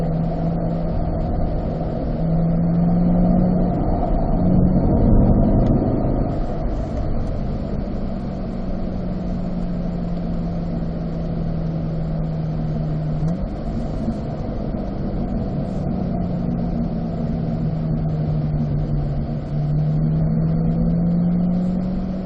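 A Chevrolet Corvette C8 on a racetrack cool-down lap, its engine a steady, moderately loud drone with smooth pitch shifts as it eases off and picks up again, broadband road and wind rush underneath, no talking.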